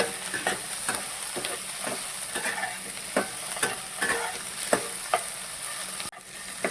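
Paneer roll filling is stirred in a pan over low heat, a spatula scraping in regular strokes with a soft, steady sizzle underneath, close and moderately loud, with no talking.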